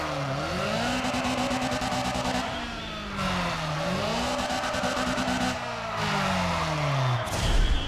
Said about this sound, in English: one thing I love about this engine sound that we're hearing right now